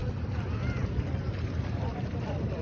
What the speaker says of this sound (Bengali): এই যে একটা ট্রলার আসতেছে